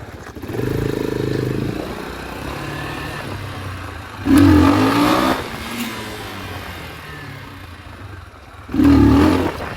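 A Geon X-Road motorcycle engine idles with a rough mechanical clatter, then revs hard twice in strong, loud bursts up close, dropping back to idle between them.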